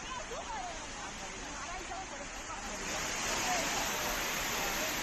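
Floodwater rushes down the stone steps of Anjaneri fort near Nashik during monsoon rains, a dense, continuous roar that stays steady and grows slightly louder midway, with no clear voices over it.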